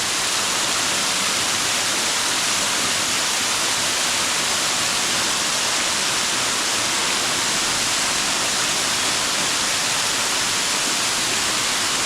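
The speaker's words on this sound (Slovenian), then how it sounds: "Glejte, slap, ki pada v jamo." A karst waterfall pours into a cave, a loud, steady, broadband rush of falling water that never lets up, heard close with no voices.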